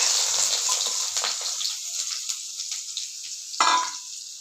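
Onions with mustard seeds and urad dal frying in a pan, a steady bright sizzle close by with a brief louder hiss near the end and no talk.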